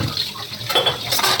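Running tap water splashes steadily as dishes are rinsed at a kitchen sink, a continuous close hiss with slight surges and no talk.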